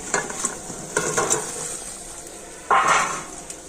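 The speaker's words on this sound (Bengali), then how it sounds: "চিনি শিরার সাথে মিষ্টিগুলো আমি কিন্তু পাঁচ মিনিট ধরে এইভাবে একটু ফুটিয়ে নেব" Semolina sweets in sugar syrup stirred in a pot, soft bubbling hiss with a few scraping spoon strokes and a louder stir near the end, close by.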